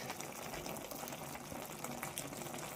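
A pot of Black Sea-style collard green rolls boils on a wood-burning kitchen stove, giving a steady, close bubbling and hissing simmer with no pause.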